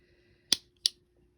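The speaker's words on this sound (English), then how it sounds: "And then I cut it right off at the end here." Two sharp snips of scissors cutting yarn at the end of a crochet dishcloth, close and crisp, with a low steady hum underneath and quiet in between.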